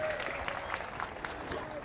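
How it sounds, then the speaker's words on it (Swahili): Brief burst of clapping from a crowd at a political rally in Lodwar, moderately loud and continuous, with a loudspeaker voice over it. "Tumpigie makofi"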